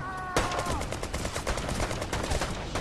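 Automatic fire from a new gun in the video game Brothers in Arms 3, starting abruptly with a sustained burst of loud, close rapid shots.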